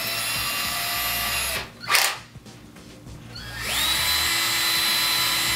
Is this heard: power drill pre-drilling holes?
yes